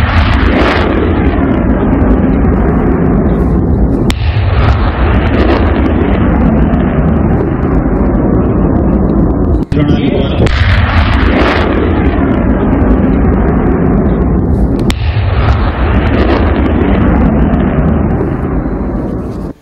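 An Indian Air Force surface-to-air missile launch roars continuously and very loudly, with several abrupt bursts of blast and rushing exhaust noise renewing the roar throughout.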